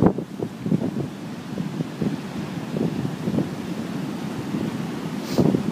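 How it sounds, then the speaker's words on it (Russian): Ocean waves break on a shore under heavy wind buffeting the microphone, with a steady low roar and repeated surges of surf at close range, no voices. "Вот такие волны идут."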